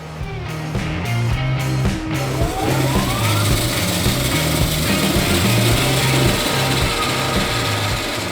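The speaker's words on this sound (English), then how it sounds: "the bandsaw just trims right through them" A bandsaw trimming a block of ice in an ice carving shop, a steady loud motor whine with a grinding, rasping cut that starts after a few brief clicks and runs continuously, close up.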